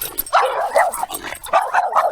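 Small dogs bark and yip in short bursts close by during an Iowa bike tour stop, with a few whimpering yelps between the barks.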